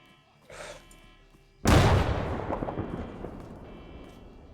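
A grenade goes off in the video game Arma III with a sudden loud boom and a long, rumbling decay, preceded by a faint short burst of noise.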